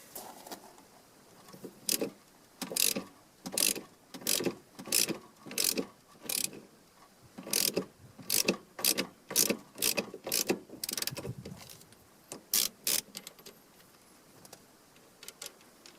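A ratchet fitted with a 13/16 socket loosens the steering wheel nut on a 1999–2002 Silverado, producing close, crisp bursts of clicking in a steady back-and-forth rhythm, repeated about a dozen times before slowing.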